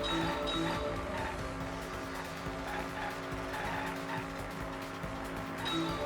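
Race cars roar continuously in a Danganronpa V3: Killing Harmony racing minigame, engines droning with tire squeals and skids layered over a busy game soundtrack.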